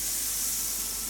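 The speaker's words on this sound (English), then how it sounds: "if you were putting butter in there, it will start to sizzle" Butter and oil sizzle in a hot pan with a steady, bright, even hiss that holds without break, close up and alone.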